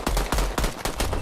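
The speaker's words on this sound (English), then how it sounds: "Is he shooting me?" Automatic gunfire in the Midnight Society video game, a fast rhythmic burst of about six loud, punchy shots close up with no talk.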